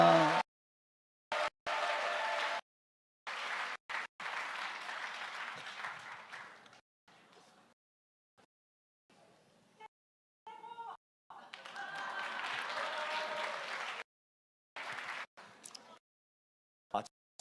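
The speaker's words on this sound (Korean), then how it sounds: "박수를 드리겠습니다" Audience clapping in a church during a patriotic lecture, coming in choppy bursts broken by abrupt silent gaps, moderately loud and fairly distant.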